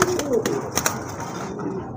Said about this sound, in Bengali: এটা হচ্ছে আপনার মিল্ক কালারের ভিতরে অরিজিনাল দেশি কবুতর